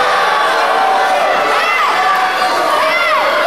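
Wrestling crowd at a heavyweight championship cage match booing and shouting loudly and continuously, a dense roar of many voices with whistles and whoops rising above it.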